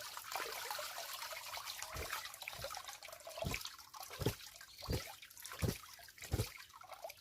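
Milky white water is squeezed out of a bag of biuli dal lentil paste mixed with ash gourd, giving faint, close wet drips and squelches that come in a loose, regular rhythm.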